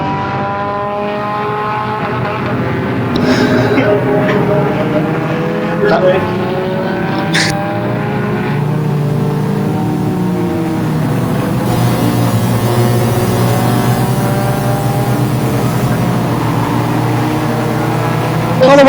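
Race cars roar around Flamboro Speedway during a Halloween enduro, a steady layered engine drone with cars rising and passing by and occasional tire squeal. A commentator talks over the racket throughout.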